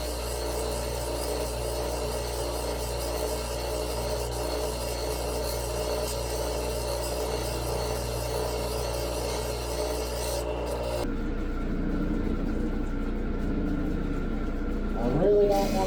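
Grinding wheels cut rough Ethiopian opal into a cabochon, making a steady rasping whir that runs continuously and then shifts to a quieter, lighter tone partway through. A faint voice is audible in the background.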